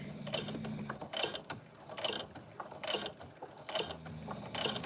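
A sewing machine works slowly in reverse, stitching backward over elastic during craft sewing, giving a steady run of evenly spaced mechanical clacks and whirs, close and moderately loud.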